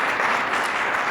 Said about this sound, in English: Give Gene a round of applause